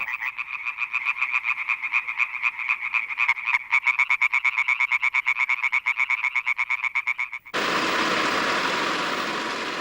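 A dense chorus of frogs and toads calling together, rapid pulsed croaks overlapping in a loud, steady din that runs for most of the stretch before giving way to a broad hiss of noise.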